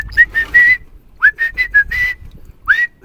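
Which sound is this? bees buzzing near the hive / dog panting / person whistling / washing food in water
person whistling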